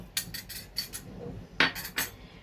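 A utensil clinks and scrapes against a metal pot as activated gelatin is mixed into sugar syrup for mango candy, with about seven quick, close metallic strokes in under three seconds and no voices.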